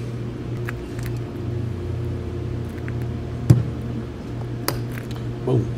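A metal G clip snaps into its groove on a Predator 212 engine during an engine build: one sharp, close click stands out, with a smaller tick a second later, over a steady low hum.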